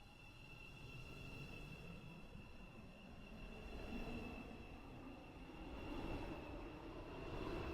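Metro Class 717 train in the Roblox game Stepford County Railway at Stepford UFC, giving a steady rumbling roll with high tonal whine lines and faint wheel squeal, continuous and moderately loud with no talk.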